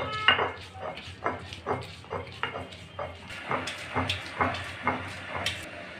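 Cashews and melon seeds being ground by hand for a rich spice paste for cauliflower roast, giving a steady rhythm of repeated scraping, knocking strokes, close and moderately loud, with no talk.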